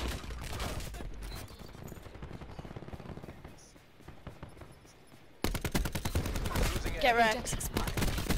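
Rapid gunfire bursts from Call of Duty Black Ops 4, dense crackling shots running throughout, dipping briefly midway then surging louder with heavier fire, a voice speaking once over it.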